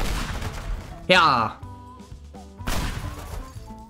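A banana bomb blows up against a plane in the video game Teardown, one sharp loud crash with a ringing tail, set between stretches of speech.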